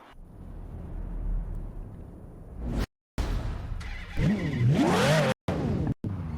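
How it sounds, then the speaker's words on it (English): Ferrari twin-turbo V12 engine in Forza Horizon 4, revving and climbing through rising, falling pitch sweeps with whooshing pass-by noise, loud and close, broken by a couple of brief dropouts. "That is the sound of a V12."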